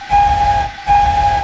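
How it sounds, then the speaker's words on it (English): A loud steam engine whistle sounds in two long sustained blasts, the second following a brief pause, strong and close. "And he blew a loud whistle."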